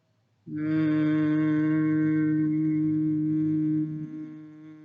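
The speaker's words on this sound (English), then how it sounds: "as you exhale, you're going to make a humming sound" A steady, low voiced hum of bee breath (Bhramari pranayama) exhale, held for several seconds after a brief quiet start, loud and close, fading slightly at the end as breath runs out.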